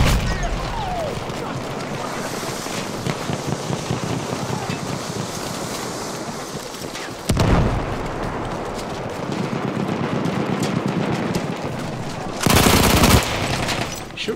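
Sustained gunfire and bursts from an online shooter video game roar continuously, with louder blasts near the middle and the end, under a steady wash of game noise and a player's talk.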